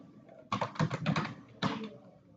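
Keys clatter on a computer keyboard during live typing practice for a Junior Assistant typing test, a quick burst of several keystrokes followed by a pause and another short cluster, close and moderately loud.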